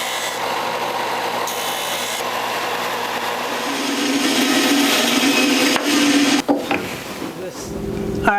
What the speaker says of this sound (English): I'll start to bore out the hollow with this little rasping bit